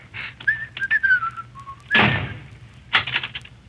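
A man whistles a short, wavering tune inside a laboratory in a radio drama, close and moderately loud, broken by a couple of dull thumps, with no talking.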